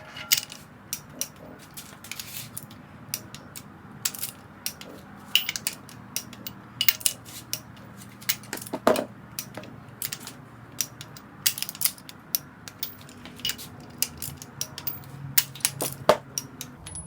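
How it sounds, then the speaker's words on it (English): A torque wrench tightens the case bolts on a 74mm-stroke 2054cc VW Bug engine, giving a long run of sharp metallic ratchet clicks in uneven bursts against a quiet shop background; no speech. "I'm going to go to my final torque"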